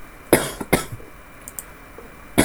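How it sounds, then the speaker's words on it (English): A few sharp coughs, close and fairly loud, with short pauses between them and a final cough at the end; no talking. "Sorry for the coughing."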